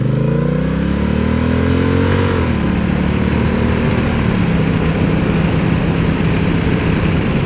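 A 2025 Honda Rebel 1100 DCT motorcycle pulls away and accelerates, its engine note climbing steadily through an automatic upshift before settling into a loud, continuous cruising drone with wind rush.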